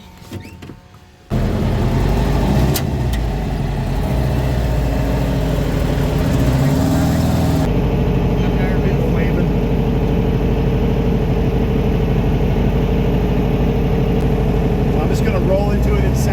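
A 1967 VW Karmann Ghia's engine starts up and runs with a steady, loud, close drone and a slight rhythmic pulse, holding for many seconds after a brief quieter opening.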